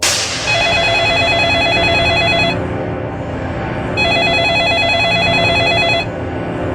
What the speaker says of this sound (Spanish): Hasta que sonó el teléfono.